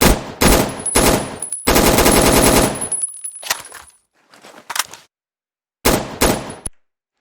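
Game gunfire from an animated gun in the Minecraft Modular Warfare mod: loud rapid bursts of automatic fire, a long burst, then a few single shots with short silent gaps between.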